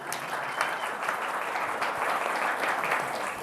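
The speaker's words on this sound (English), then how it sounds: "Give yourself a round of applause." Wedding guests at a Bar Harbor ceremony break into steady, dense applause, a full room of clapping holding at an even level throughout.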